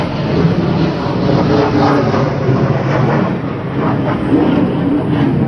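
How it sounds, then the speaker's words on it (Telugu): A loud, continuous roar of jet aircraft flying back and forth overhead in China fills the air, steady and broad, with no voices. "జెట్ ఫ్లైట్స్ కూడా బీభత్సంగా తిరుగుతూ ఉన్నాయి అటు ఇటు పైన"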